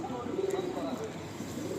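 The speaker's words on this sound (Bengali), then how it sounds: "মালবাই পায়রা হাতে নিয়ে এত এত ভালো লাগছে" A Malwai pigeon, an adult female held in the hand, gives soft low cooing close by over a steady background hum, with no talking.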